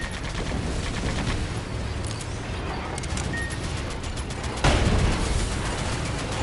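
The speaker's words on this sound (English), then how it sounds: "Use the machine gun again!" Machine gun fire in a video game rattles on as a dense, steady stream of rapid shots with no break. A heavier boom hits near the end, and the whole burst stays loud and close.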